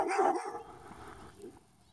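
A neighborhood dog barks a few times in the distance on a quiet morning walk, the barks fading toward the end.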